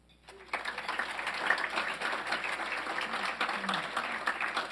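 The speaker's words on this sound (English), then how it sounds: "Let's give a warm round of applause for our physicians." Audience applause for physicians at a medical center event, starting after a brief pause and then holding as steady, dense clapping through the rest of the stretch at moderate, somewhat distant level.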